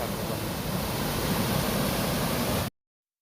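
Rain-fed water pours over a check dam into a canal, a steady broadband rush with a low rumble that holds unbroken for nearly three seconds before cutting off.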